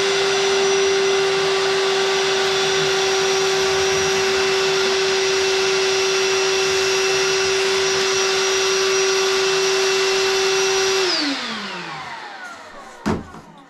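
A Ryobi wet vac runs, sucking up sawdust and wood chips, a loud steady motor whine held for about eleven seconds before spinning down, followed by a brief knock, with no talk.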